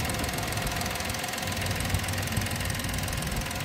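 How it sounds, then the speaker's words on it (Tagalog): A kei car engine idles steadily up close, a faint, even mechanical chatter with light ticking and vibration and no talk over it. "Napakaganda ng engine ng unit na ito."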